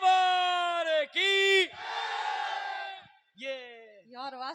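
A crowd at a Marwari devotional gathering roars a loud sustained cheer in answer to a leader's call, with sung, chanted voices rising and breaking off in several bursts.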